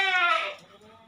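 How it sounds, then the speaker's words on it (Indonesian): One loud, close goat bleat from a farm goat pen, a strained wavering cry lasting about half a second before fading into quiet barn background. "kenapa dari tadi terdapat kambing-kambing lain yang berteriak kencang?"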